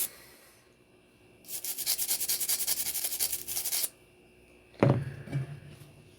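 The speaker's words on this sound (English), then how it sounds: "Start scrubbing." Rhythmic scrubbing strokes on a PSA Dagger Compact pistol magazine spring, brisk and close, running for a couple of seconds, followed by a brief knock and handling noise.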